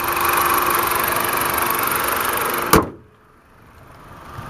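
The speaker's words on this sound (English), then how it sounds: "At this 2-liter four-cylinder engine, and it's currently running, so you can hear how well it runs." A 2011 Jeep Patriot's 2-liter four-cylinder engine idles with a constant hum, then cuts off abruptly with a short thump, leaving near silence.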